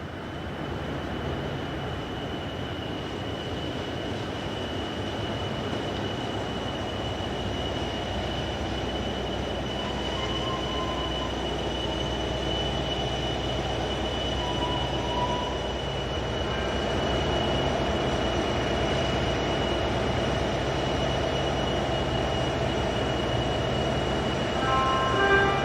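SNCF locomotive 72052 pulls into a station with an Orléans to Lyon-Perrache service, a steady rumbling roll with faint wheel squeal and a sustained high tone that swells slightly toward the end, with no voices.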